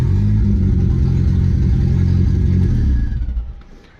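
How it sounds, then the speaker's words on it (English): A Merkur XR4Ti engine runs loudly up close, a dense low rumble with clattery mechanical texture and a hint of revving, fading somewhat near the end. "The boost gauge does work though, and the car does start right up."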